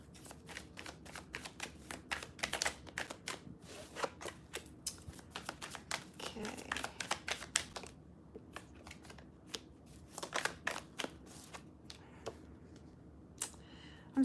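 Cards are shuffled in quick bursts of crisp riffling and flicking, close and fairly quiet, with short pauses between shuffles.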